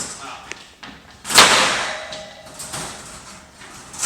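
The side panel of a 48-inch double-door folding-top dog crate is pulled up, giving a sharp metallic clank followed by a rattling wash, with a person talking around it.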